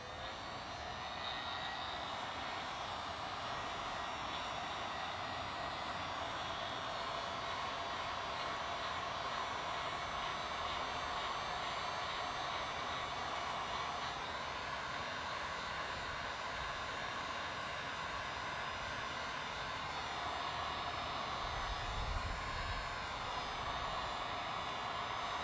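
Heat gun warming a BMW F33 carbon fiber fender vent, a steady close-up whooshing blower roar with a constant motor whine, unbroken for the whole stretch, with a brief low thump near the end.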